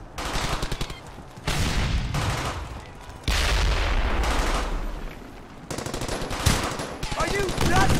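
Firefight gunfire in bursts of rapid automatic fire mixed with heavier booming shots, loud and close, breaking off briefly and starting again several times, with faint shouting in the mix.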